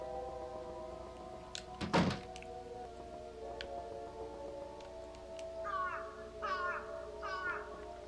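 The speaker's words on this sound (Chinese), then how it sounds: "这乌鸦叫声吗？" A crow in a horror RPG puzzle game caws three times in quick succession near the end, heard over a low droning music bed, with a sharp thunk earlier on.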